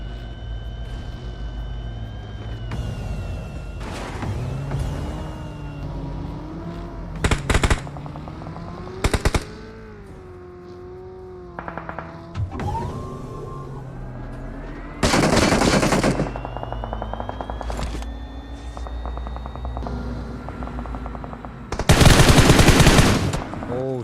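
Rapid bursts of automatic gunfire and single shots ring out during a competitive esports video game match, with loud clustered volleys breaking through a steady bed of game ambience and engine drone, no voices heard.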